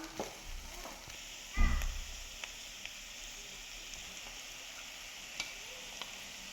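Ground masala is stirred into sautéed carrots and beans in a pan, with soft sizzling frying throughout, one louder scrape-and-thump near the start, and a few faint spoon clicks afterward.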